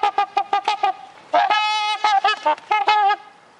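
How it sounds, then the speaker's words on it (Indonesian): A series of loud, brassy, trumpet-like honks from a trumpeter swan, some short and clipped, others drawn out, calling repeatedly up close. "Angsa trompet, seperti namanya, punya suara yang mirip seperti suara trompet."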